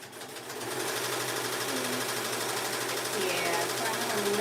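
A sewing machine stitches boxy bags in a steady, fast, close-up mechanical whir that runs continuously without pause.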